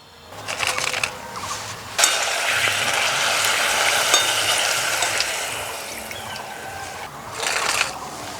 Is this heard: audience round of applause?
no